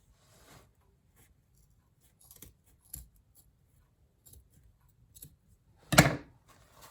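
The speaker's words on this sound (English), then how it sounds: "And then cut it at the top." Scissors snipping paper while making a DIY beehive craft: a few soft, scattered cuts close by, ending in one sharper, louder snip, with quiet pauses between.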